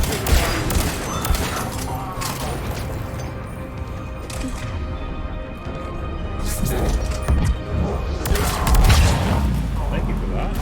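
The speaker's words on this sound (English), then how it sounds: "Take out the turret! Especially because it is very busy shooting." A turret firing in a sci-fi shooter game, dense bursts of gunfire and explosive crashes layered over constant battle noise, loud and continuous, with voices talking over the action.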